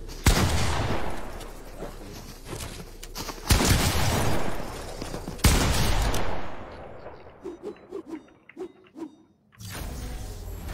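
Several loud sharp bangs ring out, spaced a second or two apart, followed by a burst of smaller rapid clicks and cracks.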